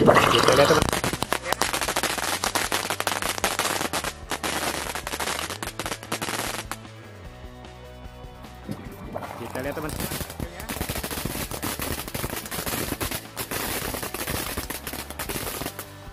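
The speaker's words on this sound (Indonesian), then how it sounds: "selanjutnya kita nyalakan mercon Cassandra Magical, mercon air mancur jumbo juga" A Cassandra Magical jumbo fountain firecracker goes off inside an aquarium, spitting rapid loud crackling bursts like machine-gun fire, dropping to a hissing lull midway before the popping surges back.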